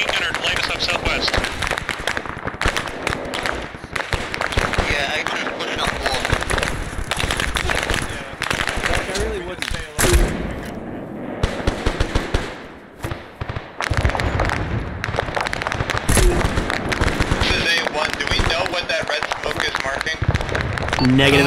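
Machine gun fire in the Arma 3 video game, with rapid, loud bursts and crackling gunfire running almost continuously, a brief lull partway through, and voices talking over the shooting.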